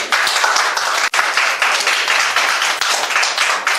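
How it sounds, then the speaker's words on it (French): Loud, dense applause from a crowd at a wedding ceremony in a town hall, steady clapping filling the whole stretch with no voices standing out. "applaudissez très très fort pour ce groupe"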